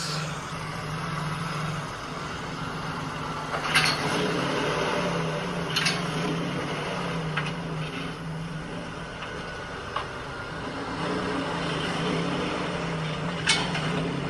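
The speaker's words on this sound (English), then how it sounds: "this clicking noise only occurs when I'm taking off like from a stop" Sharp ticking clicks from a pickup truck's driveline as it pulls away from a stop, scattered irregularly over a steady low engine hum, fairly faint and with no talking.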